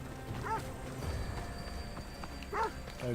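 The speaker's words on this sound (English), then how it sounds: "I'm in combat with the dog." A dog in combat in Assassin's Creed Odyssey gives two short, sharp yelps or barks about two seconds apart, over a low, busy game background.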